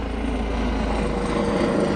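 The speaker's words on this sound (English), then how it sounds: "and a helicopter." A helicopter drones overhead at a carp fishery, its rotor chop and engine whine steady and fairly loud throughout, with no voices.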